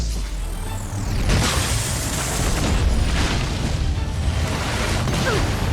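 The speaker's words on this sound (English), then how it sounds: "Oh, der ist einfach nur explodiert." A loud, sustained explosion in the video game Honkai: Star Rail, a heavy boom that rolls on as a dense rumbling roar for several seconds, with no speech over it.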